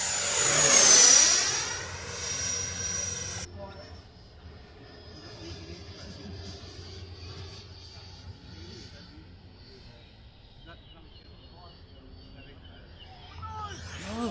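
A MiG jet makes a low pass, rushing past loud and close with a falling whine, then fading to a distant drone that lingers for several seconds.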